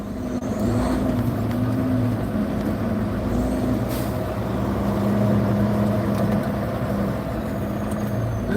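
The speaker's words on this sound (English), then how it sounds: "You hear that power? Some of y'all never gonna hear that, the weak ass truck you running with." A heavy truck's big engine idles loud and close with a steady low rumble, with faint air-brake hiss mixed in throughout.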